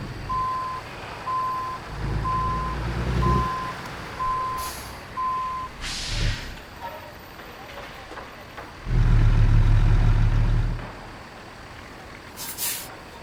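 Reversing beeps from a truck in American Truck Simulator pulse in a steady run, with the engine rumbling below, a hiss of air brakes and a loud burst of low engine roar as the truck is maneuvered into a parking spot.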